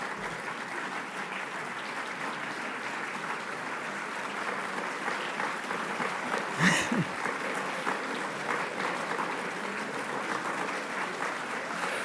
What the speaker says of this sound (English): I'm glad you're clapping